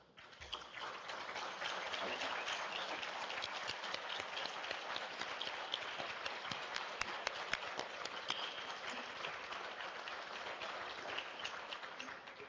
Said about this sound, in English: let us celebrate you with a round of applause